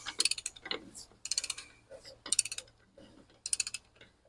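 Brake hub being drawn onto the rear axle of a Mack Cruise-Liner cab-over truck, a series of close metallic creaking, ratcheting bursts in short repeated pulls with pauses between.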